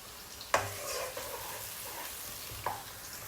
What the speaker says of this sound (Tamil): வெங்காயம், பச்சை மிளகாய் ரெண்டையும் போட்டு ஒருக்கா கொஞ்சம் நேரம் வதக்க போறேன்